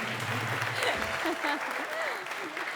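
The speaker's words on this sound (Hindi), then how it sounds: "उनके जाने में भी तालियां बजाओ।" Studio audience applauding steadily at a comedy show, dense even clapping throughout with voices talking and laughing over it.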